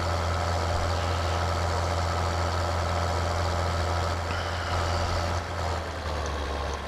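In Farming Simulator 2013, a heavy-duty tractor's diesel engine idles with a steady, deep low rumble and a constant hum, continuous and unchanging for several seconds with no voices.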